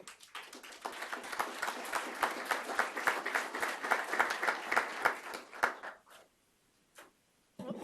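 Audience applause for a panel at a soil health summit, steady dense clapping from a crowd for about six seconds, then fading out into near silence before a brief pickup at the end.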